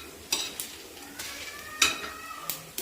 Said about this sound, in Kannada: ಇವಾಗ ಈ ಒಣಮೆಣಸಿನ್ಕಾಯಿ ಹಾಕೋಣ. ಇದೊಂದು ಸ್ವಲ್ಪ ಫ್ರೈ.